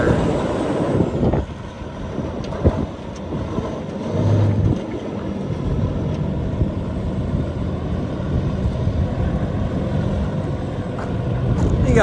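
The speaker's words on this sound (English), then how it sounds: "I'll go forward and reverse here just quick, and then it might loop it around the lot quick for you." 2014 Peterbilt 386 truck moving around a lot, a steady, loud low engine rumble running throughout with some brief knocks and rattles, heard close by.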